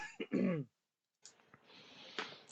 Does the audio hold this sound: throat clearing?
yes